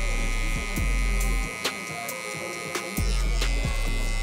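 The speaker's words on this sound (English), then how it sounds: "now I'm coming back to my clipper and I'm gonna just detail this area close to his hairline to make it blend a little better" An electric hair clipper buzzes close by while detailing near a client's hairline during a high taper cut, its drone cutting in and out in short bursts with brief pauses between passes.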